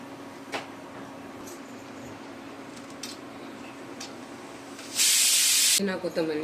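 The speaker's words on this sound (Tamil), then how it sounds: "குக்கர் சூடாயிடுச்சு. ஒரு 200 கிராம் எண்ணெய் ஊற்றிக்கலாம்." Groundnut oil poured into a hot pressure cooker for mutton paya biryani: a faint background hiss with scattered ticks, then a sudden loud, harsh sizzling burst near the end that cuts off abruptly.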